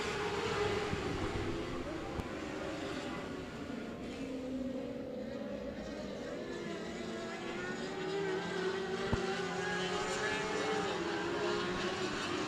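Dwarf race cars accelerate out of turn 4 on a restart at Cotton Bowl Speedway, a steady, droning blend of small engines rising and holding at moderate distance, with no talk over it.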